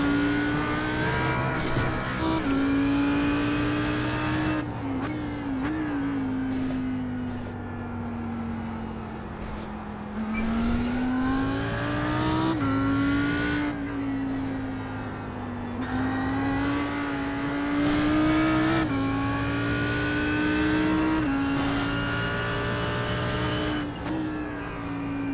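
Audi R8 GT3 race car lapping Spa in iRacing, its engine droning steadily with rising and falling revs through gear changes and corners, loud and continuous from the cockpit with brief tire scrubs.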